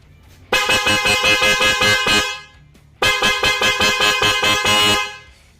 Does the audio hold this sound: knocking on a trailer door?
no